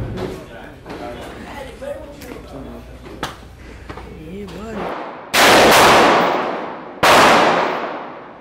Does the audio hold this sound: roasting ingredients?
no